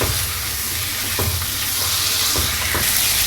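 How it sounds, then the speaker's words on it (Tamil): Washed prawns sautéing in a pan for prawn gravy, a loud, dense sizzle close up with a few stirring scrapes cutting through, no voices over it. "இது வந்து கொஞ்சம் நல்லா வதக்கிக்கலாம்"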